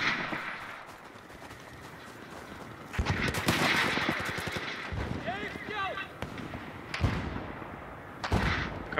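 Bursts of automatic gunfire and explosions from the Battlefield video game rattle through dense battle noise, loud and close, with people talking over the action.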